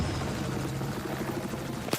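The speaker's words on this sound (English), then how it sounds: "Helicopter's up." A Little Bird helicopter flies in Battlefield 4 during an esports match, its steady rotor drone and engine hum holding close and constant throughout, with a brief sharp burst at the very end.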